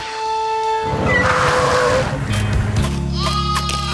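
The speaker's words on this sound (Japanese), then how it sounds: "羊たちの声だ。" Cartoon sheep bleat in an animated children's rescue show, several wavering high bleats layered together over a steady tonal background, loud and close with no speech.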